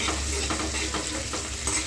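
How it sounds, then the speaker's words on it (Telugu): Sliced onions are stirred in a frying pan, a dense, loud sizzle with rhythmic scraping strokes of the spoon repeating about every half second. "ఆనియన్స్ వేసాం కదండి, ఈ విధంగా కలపాలి."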